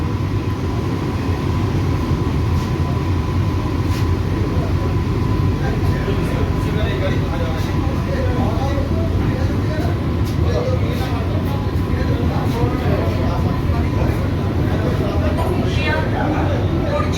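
An AC local train from Bongaon to Sealdah runs after leaving Thakurnagar station, giving a continuous low rumble and rattle of wheels and carriages with faint sharp clicks, steady throughout.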